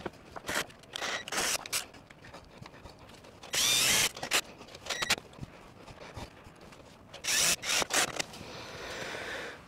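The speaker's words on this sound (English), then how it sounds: "we're gonna put a couple extra screws in here just in case." Screws driven into the wooden base of a homemade archery draw board, with several short whirring bursts of a power driver between quieter handling noises and scraping.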